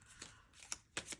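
Playing cards being shuffled by hand, a few quick riffling bursts close by with short pauses between them, and no talking.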